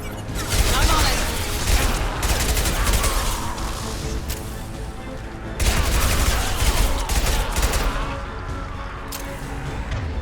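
Sustained gunfire in the sci-fi shooter Mass Effect 2 on Insanity difficulty, with dense overlapping bursts and impacts throughout and louder surges, under occasional voices.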